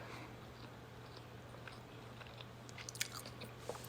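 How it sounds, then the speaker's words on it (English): Close, faint chewing of tough, chewy bacon, with soft wet bites and a few light crunches over a low background hum. "This bacon's chewy and I'm having a hard time with it"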